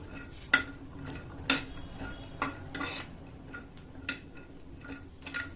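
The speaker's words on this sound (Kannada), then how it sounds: "ಈಗ ಫ್ರೈ ಮಾಡುವಾಗ ಡ್ರೈ ಅನಿಸ್ಬೇಕು ಲೋ ಫ್ಲೇಮು ಇಲ್ಲ ಮೀಡಿಯಂ ಫ್ಲೇಮ್ ತಗೊಂಡು ನಿಧಾನಕ್ಕೆ ಫ್ರೈ ಮಾಡ್ಕೊಳ್ಳಿ" Almonds being dry-fried slowly in a pan over medium flame for kesar badam milk powder, heard as scattered sharp clinks and scraping ticks of stirring against the pan, close and fairly quiet, with no talk.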